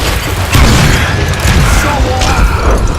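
Gunfire in the western shooter game Call of Juarez Gunslinger: loud booming shots burst over a busy game soundscape with mechanical clatter.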